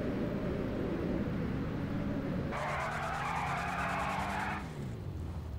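Race car in the GTA 5 video game sitting in place to warm its rear tires, the engine held at high revs, then a loud sustained squealing skid that stops abruptly, with the engine droning steadily underneath.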